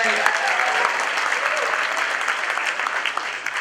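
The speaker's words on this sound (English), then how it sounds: "Let's hear it for Soli, everybody." A live audience at a mentalist's stage show applauds and cheers for a volunteer being called up, steady dense clapping with a few shouts running throughout.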